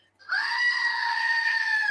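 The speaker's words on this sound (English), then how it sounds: "sent me a new screaming goat" A screaming goat toy lets out one loud, drawn-out bleating scream that starts abruptly after a brief silence and holds for well over a second.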